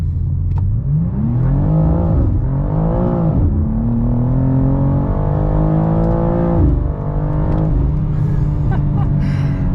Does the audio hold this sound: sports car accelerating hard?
yes